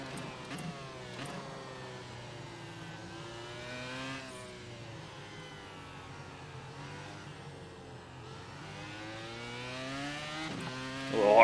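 A formula car engine in the racing sim iRacing at Silverstone revs and climbs through the gears, its pitch rising and dropping with each shift, steady and moderately loud, swelling to a sharp peak at the end.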